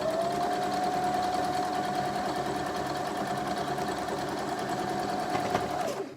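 A sewing machine stitches strips of a Card Trick quilt block together with a steady, fast mechanical whir from nearby that stops abruptly at the very end.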